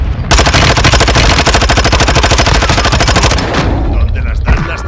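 Sustained automatic machine gun fire in Warzone, a rapid steady burst lasting several seconds, loud and close, then tapering off with a brief voice near the end.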